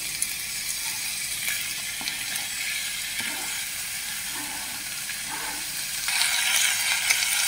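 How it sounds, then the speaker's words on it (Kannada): Ivy gourd frying in a pan with curry leaves, green chilies and onions, giving a steady, dense sizzle throughout that swells slightly louder near the end, with no talking. "ಇದು ಕರಿಬೇವು, ಹಸಿಮೆಣಸಿನ್ಕಾಯಿ, ಇನ್ನೊಂದು ಸ್ವಲ್ಪ ಫ್ರೈ ಮಾಡ್ಕೊಂಡು ತೊಂಡೆಕಾಯಿ ಹಾಕೊತೀನಿ"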